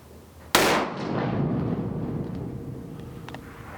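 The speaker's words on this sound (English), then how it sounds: "I'm gonna shoot a group at 100 and see how it goes." A single sharp, loud gunshot from a Weatherby 307 Alpine ST rifle at an outdoor range. The crack is followed by a long, fading rumble, with faint clinks afterward.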